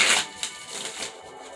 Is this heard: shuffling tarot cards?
yes